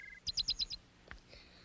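A small bird chirps in a quick run of four or five bright tweets, followed by a couple of fainter isolated calls, close and clear against a quiet background.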